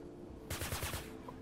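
A drone fires energy shots in the Fortnite video game: a short, rapid burst of about six bright zapping pulses, loud and close over a quiet game background.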